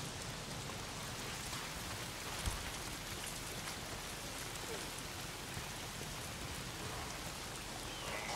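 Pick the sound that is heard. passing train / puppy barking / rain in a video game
rain in a video game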